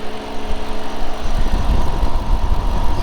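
A 2014 Ford Mustang Shelby GT500 with its 5.8-liter supercharged V8 idles close by, a steady deep rumble with a slight uneven lope that holds loud throughout, with no talk over it.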